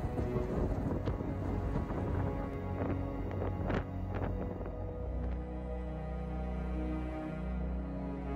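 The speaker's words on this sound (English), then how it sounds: "we all had had enough of the wind" Strong wind gusting across a beach in Iceland, a loud, continuous roar buffeting the microphone throughout, with heavy low rumble and no one speaking.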